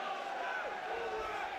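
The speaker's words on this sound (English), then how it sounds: "right to the end, you hear the crowd respond as well" Boxing crowd in the third round of a Chris Cates vs Andy Morris bout, a steady murmuring roar with rising shouts underneath continuous commentary.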